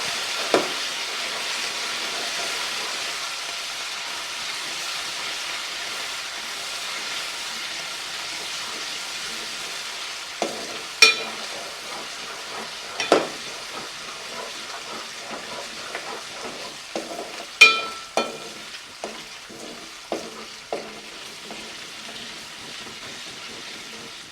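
Gongura garlic chicken cooking in a pan over a low flame, a soft steady hiss with scattered light clicks and taps of a spoon against the pan.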